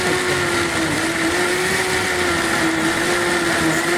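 A mixer grinder grinding beetroot and sago mixture whirs loudly and continuously at a steady high pitch, close by, with no talking.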